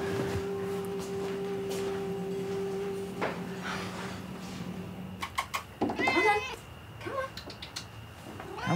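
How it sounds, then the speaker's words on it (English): A cat meows several times in a home where chili is being cooked, the calls rising near and clear after a stretch of quiet room hum and faint clatter. "Yeah, there is a cat, though."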